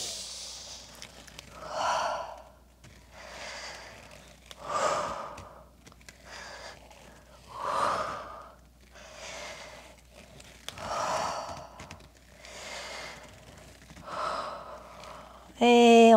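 Slow, steady breaths repeat at an even pace through a downward dog yoga flow, each inhale and exhale soft and close with faint room noise between, and a brief louder sound cuts in at the very end.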